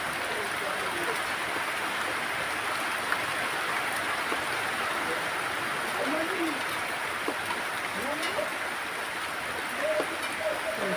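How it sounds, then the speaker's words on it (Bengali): Steady rain falls continuously, a dense, even hiss close by that holds its level throughout, with some faint background voices and other small sounds scattered through it. "কেমন বৃষ্টি পড়ছে"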